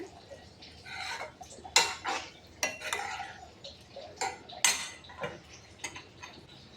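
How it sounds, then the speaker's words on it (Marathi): Vegetable curry is stirred in a pan, with a utensil scraping and clinking against the metal in a quick irregular series of close strokes over low background hiss. "ते भाजीला एकदा फिरवून घेते"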